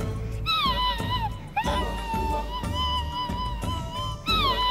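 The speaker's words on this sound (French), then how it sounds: "Voici le bruit de la hyène." A hyena calling in a series of rising and falling whooping wails, fairly close and clear, repeated several times with short gaps.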